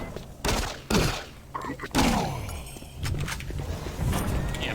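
Pistol shots in Doom 3, a few sharp bursts spaced through a loud, busy game mix, with a voice briefly audible.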